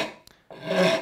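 A cabinet maker's rasp files a wooden curve by hand: a faint tap, then a close, rough rasping stroke that swells and fades.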